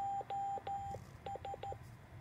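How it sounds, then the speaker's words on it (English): Morse code tones keyed on a capacitance CW touch paddle with two acorn knobs, a steady beeping tone sounding in short and long elements in an irregular keyed rhythm, clear and alone over faint background hiss. "We use our fingertips to touch these two acorn knobs on here to create Morse code tones."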